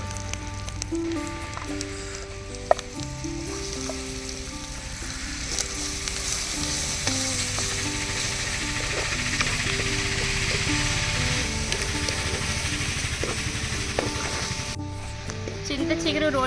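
Tempering sizzles loudly and steadily in a hot pan for tamarind leaf chutney, a dense continuous hiss with occasional crackles, while faint background tones play.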